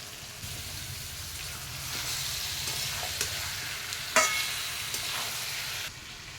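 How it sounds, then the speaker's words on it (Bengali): Chicken pieces sautéing with spices in oil in a pan: a steady, dense sizzle with occasional stirring scrapes and a brief clatter near the end, close and unaccompanied by talk. "মাংসটা ভালো করে কষিয়ে নেব"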